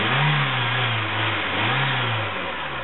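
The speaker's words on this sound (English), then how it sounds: "A little bit of lifter tick going on there, and like I said, I'm pretty sure that's through the water pump making that noise." A 1989 VW Golf engine, said to have some lifter tick, revs up and drops back twice in quick succession under the hood, a close, moderately loud mid-pitched engine sound with no talking.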